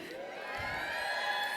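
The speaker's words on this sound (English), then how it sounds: "you can cheer" A graduation commencement audience cheers and whoops, a steady, fairly distant crowd roar mixed with a sustained tonal hum in a large venue.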